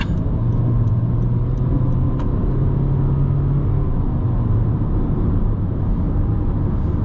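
A new Honda Vezel cruises on an expressway through a tunnel, its steady road and engine rumble loud and continuous with no break, while a faint low drone holds underneath.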